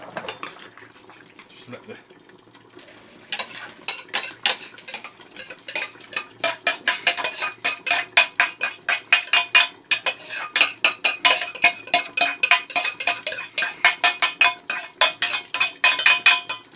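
Cooked rice being scooped into a plastic bowl in a home kitchen, a rapid series of loud close scrapes and clinks from a utensil, with a brief spoken remark near the start.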